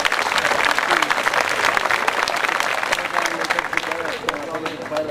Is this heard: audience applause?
yes